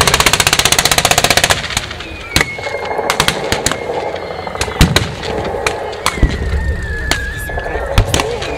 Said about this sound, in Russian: С русских позиций работает пулемет «Максима», который у нас чаще называли просто «Максим»